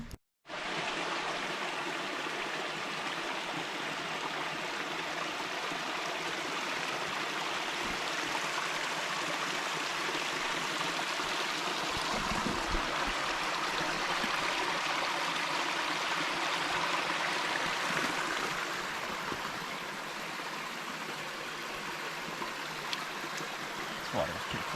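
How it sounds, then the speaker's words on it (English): A stream at Short Springs Natural Area in Tennessee rushes steadily toward a waterfall, a broad, continuous hiss of flowing water that stays loud and even throughout. "Definitely hearing some water features up ahead though, so I'd be getting close to a decent waterfall."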